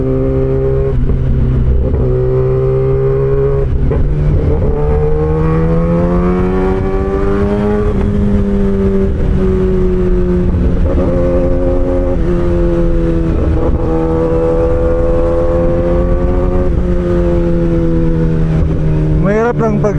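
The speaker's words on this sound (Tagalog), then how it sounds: "Masarap paglaruan ang ganitong motor." A Kawasaki ZX-10R sport motorcycle revs while being ridden on the road between Bansalan and Davao City, its engine tone climbing and falling in steady loud sweeps with gear changes, continuous and close throughout.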